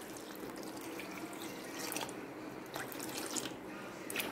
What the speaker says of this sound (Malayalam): ഇത് ചെറു ചൂടുവെള്ളമാണ് ഇതിൽ ഒഴിച്ച്